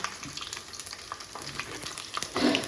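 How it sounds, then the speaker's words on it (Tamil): Ginger and garlic sautéing in a pan, a close crackling sizzle with scattered stirring clicks and scrapes, louder toward the end, no talking. "இஞ்சி பூண்டு வதங்கட்டும்"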